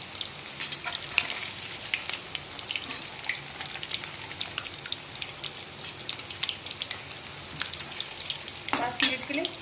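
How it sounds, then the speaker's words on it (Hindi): Spinach cheese balls fry in oil over a low flame, producing a continuous close crackling sizzle with scattered pops and a brief stirring clatter near the end, with no voices. "पाँच मिनट के लिए धीमी आंच पे से फ्राई होने देंगे"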